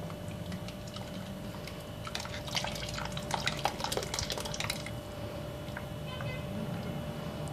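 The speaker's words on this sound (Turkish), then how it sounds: "Şimdi yavaş yavaş çorbama ekliyorum. Eklerken de mutlaka karıştıralım." A spoon stirs a pot of yayla soup while a mixture is slowly added, giving soft liquid swirling and faint scraping at a steady low level with no talk.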